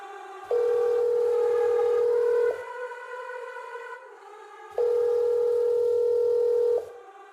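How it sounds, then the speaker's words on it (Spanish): A phone call's ringback tone sounds twice, each a steady electronic tone lasting about two seconds, with a quieter pause between them and faint line hiss throughout. "El timbre sonó un par de veces"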